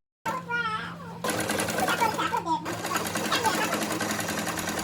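Electric sewing machine stitching tissue fabric for a kurti, a close, rapid mechanical whir that runs almost continuously after a brief pause, with a voice and someone talking over it.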